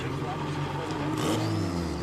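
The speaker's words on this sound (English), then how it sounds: "the engines have been fired once again" Race car engines revving at a single-file restart during NOLA SpeedTour racing, a loud, continuous engine roar with a pitch swelling upward partway through, under a commentator's voice.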